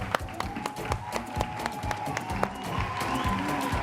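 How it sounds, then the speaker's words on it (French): Audience applause and scattered claps greet a guest on a live television show, moderately loud with distinct individual hand claps over a crowd murmur. "On applaudit pour Leila Chico."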